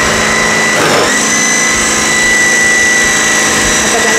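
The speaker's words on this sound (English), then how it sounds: "This is actually my most favorite food processor to date. So I'm going to go ahead and put this on high." A food processor set to high chops vegetables in a steady, loud, high-pitched motor whine that holds for the whole stretch, with one brief shift in pitch near the start.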